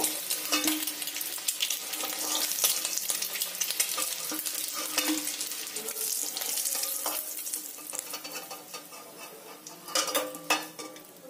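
Eggs frying in hot oil give a steady close crackling sizzle, with scattered clinks of a utensil against the pan and a brief louder burst near the end; no one speaks.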